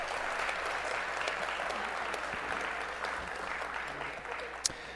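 An audience at a city's State of the City event claps steadily for a high school jazz band, a dense and even wash of applause that holds at the same level throughout.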